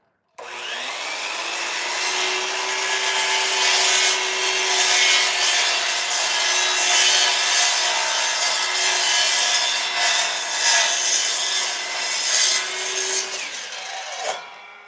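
A miter saw cuts through wood for a sushi board, one long continuous bite lasting over ten seconds with a steady high whine and rasping grind, close and loud, ending as the blade spins down.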